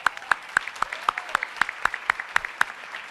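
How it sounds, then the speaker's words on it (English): Audience applause at a Hispanic Leadership Summit for Claudia Romo Edelman: sharp, separate hand claps ring out close and loud in a quick, fairly even rhythm, sounding like a small number of people clapping rather than a full crowd. "Can I have a round of applause for Claudia Romo Edelman?"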